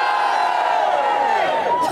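A large outdoor protest crowd for BBC 6 Music cheers loudly and continuously, a sustained roar of massed voices and whoops that fades slightly at the end.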